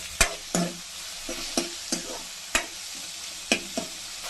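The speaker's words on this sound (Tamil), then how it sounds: "ஆனியன் வெந்துருச்சு. தக்காளி போட்டுக்கலாம்." Tomatoes tossed into onions frying in a pan, a soft continuous sizzle broken by several sharp spoon clanks and stirring scrapes at irregular intervals, close and without talk.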